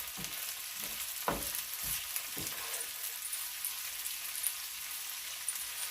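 Garlic frying in a pan on a moderate flame, with a steady faint sizzle and a few soft clinks of a utensil stirring near the start.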